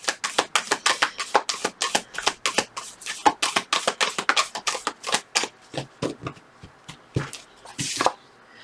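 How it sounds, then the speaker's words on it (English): Tarot cards being shuffled by hand in a rapid, steady series of crisp riffling flutters, close and loud, with no talking, thinning toward the end. "when I was shuffling the cards"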